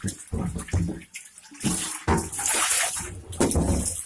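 Running water rinses out a pet rat's aquarium tank, a steady splashing rush from a tap or tub spout close by, with a person talking over it in places.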